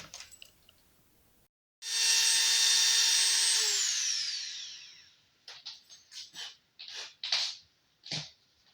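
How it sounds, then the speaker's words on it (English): A small electric drill whines steadily for about three seconds, then winds down, followed by a series of short scraping and clattering handling noises. "So I'm going to kick on this noisy little drill and come back when I am done."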